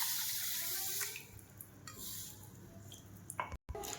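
Horse gram being washed in water in a kitchen vessel: splashing and swishing as the grains are stirred by hand, a running-water rush at first, then softer sloshes and drips close by, no talk.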